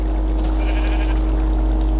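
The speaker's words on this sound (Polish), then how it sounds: "Czarna owca." A black sheep bleats in Minecraft, a short blocky game bleat sounding close and clear over a steady low hum, with nobody talking.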